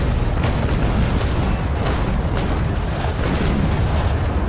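Broadside of cannons from a sailing warship fires in the Naval Action naval battle game, a sustained loud rumbling barrage of overlapping booms that rolls on without a break.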